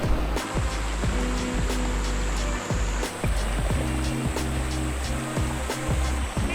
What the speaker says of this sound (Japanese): 川の音を聞きながら上流を目指します。